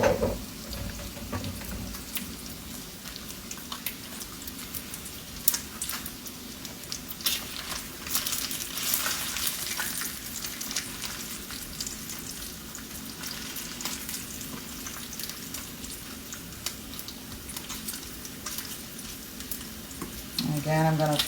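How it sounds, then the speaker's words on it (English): Bacon frying in a pan gives a steady sizzle with tiny splatter pops throughout, loud and close, with a brief clatter near the end. "Little tiny splatters, but those are just coming from the low part of the pan."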